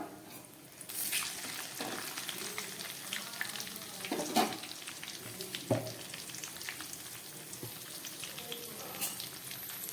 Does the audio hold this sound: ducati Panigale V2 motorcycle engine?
no